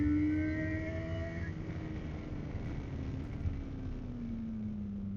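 Honda CB1000GT motorcycle engine pulling in third gear, a steady close drone with a tone that slides downward, accompanied by wind rush throughout.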